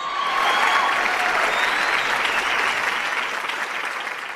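Audience applause at a comic stage play, a dense, steady wash of clapping from many hands that fades slightly toward the end.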